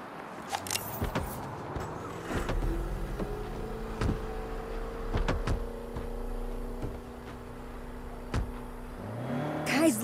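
Car in Saints Row on PS5 starting off, a low engine hum with rising whine, punctuated by several sharp clicks and thuds, moderately close, with no talk.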